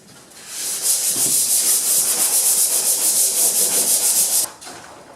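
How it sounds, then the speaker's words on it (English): Rhythmic rubbing strokes of a sanding block on plywood edges, a steady rasping hiss repeated quickly for several seconds, close up, then stopping abruptly. "Just going to use the sanding block and just give it a quick sand around the edges"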